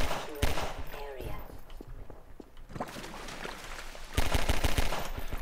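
Enemies are shot in Half-Life 2, with repeated bursts of rapid automatic gunfire and a brief voice in between, then a loud sustained volley near the end.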